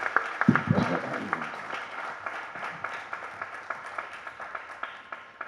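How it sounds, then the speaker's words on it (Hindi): Audience applause at a Hindi poetry gathering, a kavi sammelan: dense clapping at the start that thins into scattered, steady claps, moderately faint throughout. "एक बार तालियां बजा दें"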